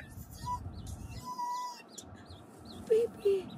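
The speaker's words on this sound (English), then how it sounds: "You got damn ducks in the motherfucking car!" Live ducks inside a car give short, nasal bird calls and a couple of louder honking quacks near the end, heard over the low rumble of the car's interior.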